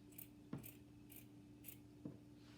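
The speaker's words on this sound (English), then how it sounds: "we're going to keep on going around until we get this whole shape cut out" Paper is being cut with scissors along a traced line, giving a few quiet, evenly spaced snips and light rustles heard close up in an otherwise hushed room.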